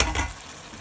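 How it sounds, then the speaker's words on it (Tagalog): Fish in black pepper sauce sizzles and simmers in the pan, a soft, steady bubbling hiss lasting under a second with no voices. "hayaan nyo lang po siyang kumulo ng mga 2 minutes"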